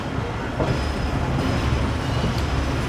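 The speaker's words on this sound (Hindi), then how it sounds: "जिस ट्रेन में हम आए हैं अभी, ये अब यहाँ से जाएगी माड़ी इंडस।" Train at Attock City Junction pulling out toward Mari Indus, a steady low rumble of rolling cars with faint wheel squeal and clatter, continuous and moderately loud throughout.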